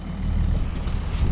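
Wind blows across an open field of spring barley as fertilizer is spread, a loud, low, continuous rumble of gusts buffeting the microphone, with no voice.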